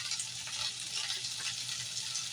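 Beef tips brown in a frying pan with a steady, soft sizzle and a bright, even crackle of hot fat that stays close and fairly quiet throughout.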